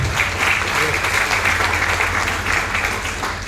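Audience applause at a network marketing seminar: a dense, even wash of clapping that runs steadily for several seconds, with voices talking over it.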